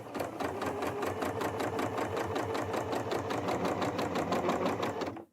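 A Janome 9480 sewing machine stitches fabric in a steady fast rhythmic run of needle clatter for several seconds, close and fairly quiet, then stops abruptly.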